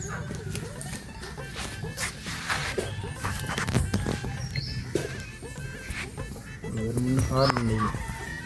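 Chickens cluck and squawk in scattered, irregular bursts over a busy outdoor background, moderately close, with some faint voices in the mix.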